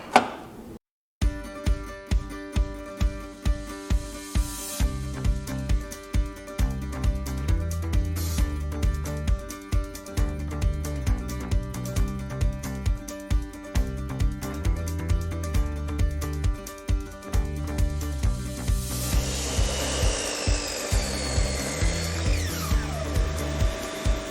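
A miter saw fitted with a Freud thin kerf crosscut blade makes a series of loud, repeated cuts across plywood, each pass a sharp whine that rises and falls, with no talking.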